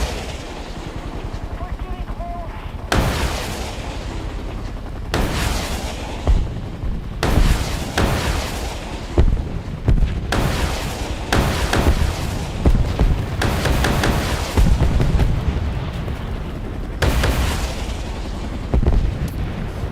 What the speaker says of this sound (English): I can try rockets again